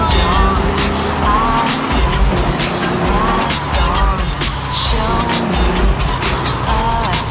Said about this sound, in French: Oh, une voiture alors.